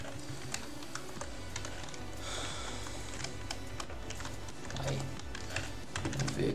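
Keys are typed on a computer keyboard in a steady run of light, fast clicks with short pauses, close and fairly quiet over low background hum.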